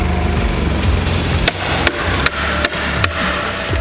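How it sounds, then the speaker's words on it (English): Hammer blows on wood at a dyno ramp unboxing, several sharp knocks spaced irregularly over a steady background rumble, fairly loud and close, no talking. "Got a bigger hammer."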